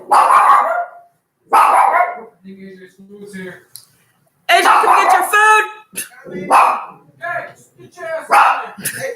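Dog barking inside a house, a few sharp barks breaking through between stretches of close conversation, the voices dominating most of the time.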